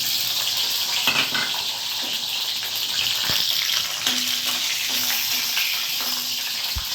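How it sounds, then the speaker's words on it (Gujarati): Loud, steady sizzle of green chillies frying in hot oil, continuous throughout, with faint intermittent hums and clatter behind it. "હાલો તેલ આવી ગયું છે, પેલા મરચાં તરું છું."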